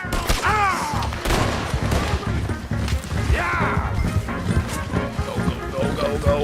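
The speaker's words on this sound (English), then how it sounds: "Open fire!" A chaotic shootout in the video game Red Dead Redemption 2, with rapid overlapping gunshots, crashes and impacts, and horse hooves and voices shouting under the loud, busy din.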